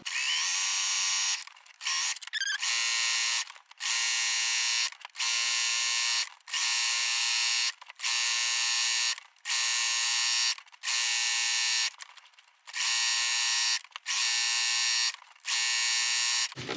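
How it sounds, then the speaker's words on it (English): A sewing machine fitted with a walking foot stitches straight quilting lines on a small fabric pencil cup organizer, running in about ten steady bursts separated by brief pauses, loud and close with no talking. "So we're just going to quilt our lines, and the walking foot will go straight."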